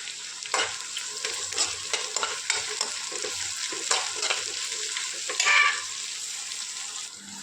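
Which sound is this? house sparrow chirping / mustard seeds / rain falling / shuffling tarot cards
mustard seeds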